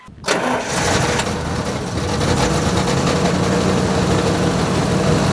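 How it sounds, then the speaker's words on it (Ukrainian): A GAZ-14 Chaika limousine engine cranks and catches, then settles into a loud, steady idle close by, running alone without voices. "Водій Павло Павлович Буряк заводить автомобіль ГАЗ-14 Чайка."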